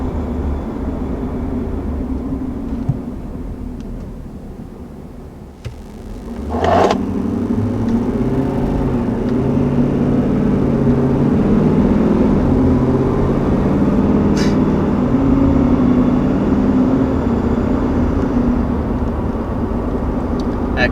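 A 2020 Ford F-250 Super Duty pickup accelerates hard. The engine roar is loud and sustained and swells after a brief dip, with a steady drone from inside the cab.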